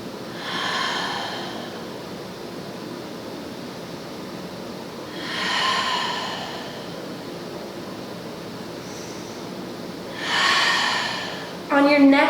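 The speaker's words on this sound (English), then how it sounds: "Taking in a few more breaths here." Slow, deep breaths taken while holding a yoga pose, three long airy inhale-exhale swells spaced evenly apart and heard close up against a quiet room hiss.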